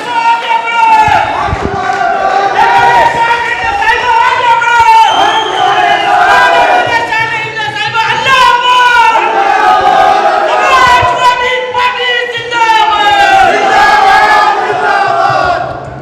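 Large crowd at a ward political meeting cheering and clapping loudly, a dense sustained roar of voices with shouts and applause throughout, staying near and loud the whole time.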